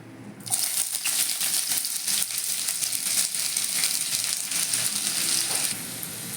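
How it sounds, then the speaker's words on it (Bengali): Chopped onion tipped into hot mustard oil in a pan bursts into a loud, bright sizzle that starts suddenly and keeps hissing steadily before easing slightly near the end. "তেলটা গরম হয়ে গেছে, এবার আমি পেঁয়াজ কুচিটা ছেড়ে দিচ্ছি।"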